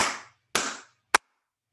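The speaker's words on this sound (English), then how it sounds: "I'm going to do a little clapping, clearing on this to liven up this process" Hand clapping as part of an energy-clearing practice: two sustained, ringing claps followed by a third sharp, short clap, close and loud in a quiet room with no talking.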